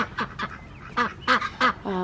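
Ducks in a farm duck herd quack loudly and close by, a rapid run of harsh nasal calls overlapping one another, several birds calling at once with no talk.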